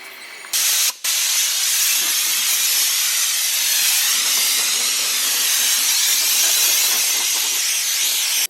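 A spray paint can sprays interior parts for an FD RX7 in a loud, continuous hiss. A short burst comes first, then a brief pause, then a long unbroken spray close by.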